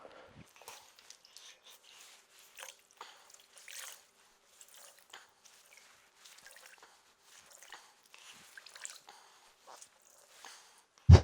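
Water wrung out of a soaked car drying towel drips in faint, scattered patters and trickles, quiet and close, with a louder splash right at the end.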